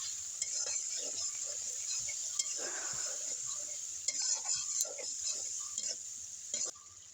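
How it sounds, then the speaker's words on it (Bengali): Tomato with turmeric and salt stir-fried in oil for soybean dopiaza, a thin steady sizzle under scattered scrapes and clicks of a spoon against the pan, close and moderately quiet. "এখন আমি সবগুলো উপকরণ ভালো করে কষিয়ে নিব"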